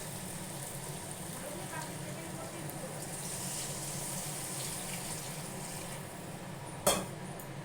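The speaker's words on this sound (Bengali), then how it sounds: "এবার পরিমাণ মতন জল দিয়ে দেবো।" Water is poured from a tap-like stream into a pan of simmering fish and potato curry, a steady continuous splashing rush lasting several seconds, with a brief sharp knock near the end.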